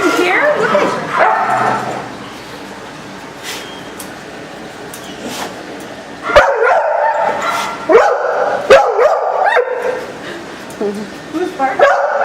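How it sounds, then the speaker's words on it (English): A dog barks and yips in several sharp, close bursts, with whimpers between them, while people talk over much of it indoors. "Who's barking?"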